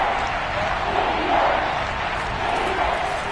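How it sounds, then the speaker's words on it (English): Football stadium crowd roaring ahead of a big third down, a dense, continuous wall of cheering and shouting that swells slightly, with a commentator talking over it. "The crowd getting into it as we come up on a big third down."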